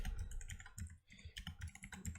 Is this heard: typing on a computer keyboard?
yes